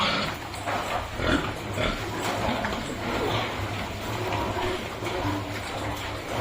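Large White sow in a barn during an ultrasound pregnancy scan, with steady low grunting and shuffling against constant farm background noise and a faint voice now and then.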